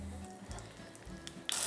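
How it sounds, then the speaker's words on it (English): A fish fillet sizzles in a hot pan, the broad frying hiss running steadily through the whole stretch with a brighter burst of spatter near the end. "It's sizzling now. I don't know if you can see that in the overhead, but it's definitely sizzling now."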